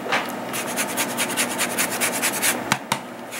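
An orange's skin is rasped against a fine grater in quick, rhythmic scraping strokes, close and fairly soft, with no talking.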